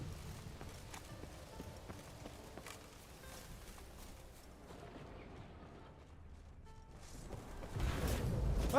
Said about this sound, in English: Where's my horse, goddammit?